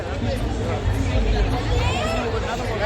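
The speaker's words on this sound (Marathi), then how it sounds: "मेट्रोवरती एवढी गर्दी आहे का नाही भयान गर्दी आहे" Dense crowd chatter fills a packed Pune metro train during the Ganpati immersion festival, a loud continuous babble of many voices close around.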